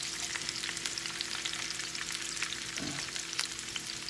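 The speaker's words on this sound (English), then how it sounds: "So you just stir them up there, get them browned up a little bit." Chicken seeds browning in a frying pan, a dense, continuous sizzle with a brief scrape of stirring partway through, close and steady with no voices.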